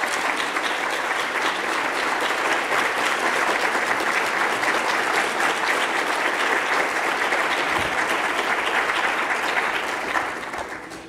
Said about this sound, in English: Peter, we applaud you.